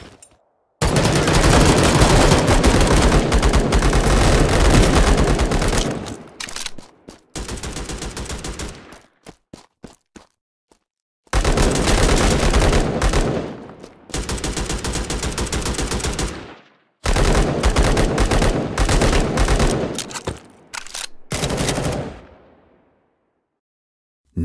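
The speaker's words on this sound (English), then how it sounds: "Incoming fire!" Intense automatic gunfire from the military video game Tales of Glory 2, loud sustained bursts separated by brief silences, rattling like machine guns in a battle.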